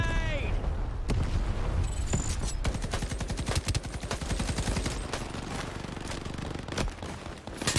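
Rapid bursts of video game gunfire crackle through the whole stretch, dense and loud, with sharp individual shots and a steady low rumble beneath.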